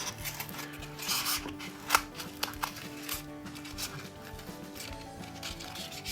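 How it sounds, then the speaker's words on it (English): Scissors cutting down the sides of a cardboard egg carton, producing soft, quiet snips and crinkling with a few sharper clicks near the middle, fairly close. "So next we want to cut down the sides of the egg carton holder to expose the petals."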